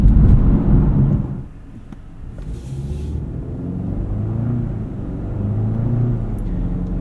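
A 2024 BMW 530i xDrive sedan on the road, heard from the cabin as a steady low engine and road rumble, heavier at first and then settling into an even, continuous drone.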